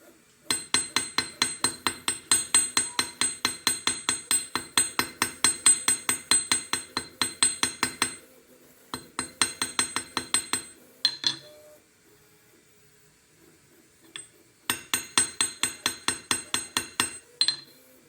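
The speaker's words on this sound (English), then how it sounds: "it's important to not talk while you're hammering" Rapid, evenly paced hammer strikes ring out on a bronze needle at a workbench, coming in several long bursts separated by brief pauses, close and crisp, with no voices.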